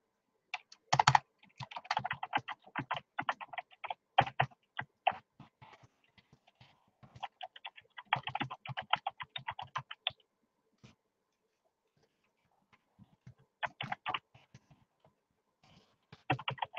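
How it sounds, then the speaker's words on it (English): Someone types on a computer keyboard in fast bursts of close, crisp key clicks, with short pauses and a longer quiet gap before a few more quick runs of keystrokes. "Why can I not type right now?"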